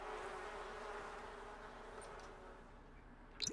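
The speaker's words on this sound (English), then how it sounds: "Shit. Bees." Bees in The Sims 4 give off a steady, droning insect buzz that hums evenly throughout, with a brief sharper sound near the end.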